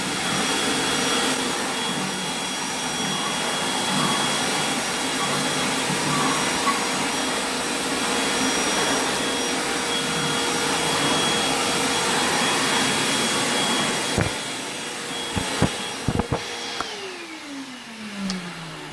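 Bauer shop vacuum from Harbor Freight running steadily with a loud whining roar while sucking up plaster chunks, then switching off and winding down with a few rattles and clicks.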